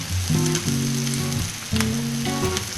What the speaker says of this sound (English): Gonna let the heat start to sear the steak quite a bit